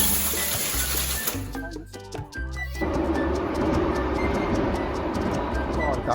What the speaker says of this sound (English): The viaduct takes the train between Truro and Falmouth